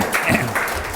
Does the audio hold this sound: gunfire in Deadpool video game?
no